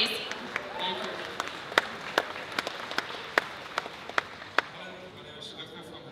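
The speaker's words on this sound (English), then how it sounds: "Yes, round of applause for Superhero Girls, please." Convention-panel audience applause for an animated show, a moderate wash of clapping with several sharp, distinct nearby claps punctuating it, easing off toward the end.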